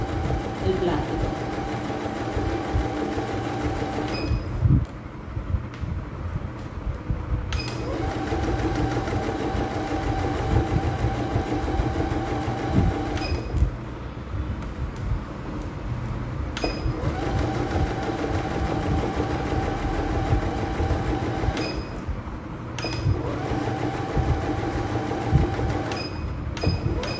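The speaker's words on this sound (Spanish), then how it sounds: "Porque usé el prensatela adecuado, que es el prensatela de teflón, para coser los plásticos" A sewing machine stitches plastic using a Teflon presser foot, its steady motor whir running in long bursts separated by brief pauses, with a voice talking over it.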